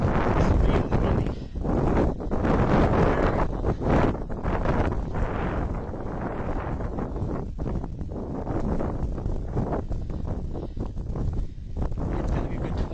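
Strong wind buffets the microphone during a mountain hike up a rock face on Cascade-Porter in the Adirondacks, a loud continuous roar with gusty surges throughout.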